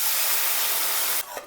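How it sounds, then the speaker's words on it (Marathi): Coconut milk is poured into a hot kadhai, releasing a loud, close steam hiss that cuts off sharply near the end, leaving a quieter bubbling tail. "त्याच कढईमध्ये आपण हे नारळाचं दूध काढलेलं ओतून घेऊया"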